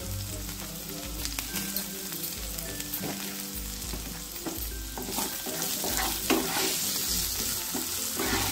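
Potato pieces frying in a pan for a pointed gourd dish, a continuous dense sizzle and crackle throughout, fairly loud and steady with occasional spoon scrapes.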